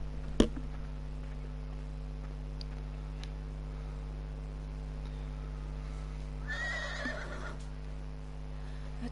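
A horse in the video game Beyond: Two Souls whinnies once partway through, moderately loud over a steady low electronic hum, with a sharp click near the start.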